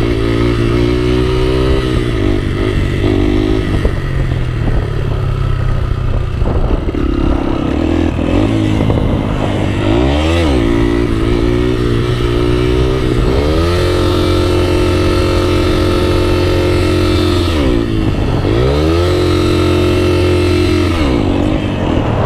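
A Yamaha XTZ 125 single-cylinder motorcycle engine drones loud and close while riding, its pitch rising and falling through repeated revs and gear shifts, with clattering wind noise over the whole ride.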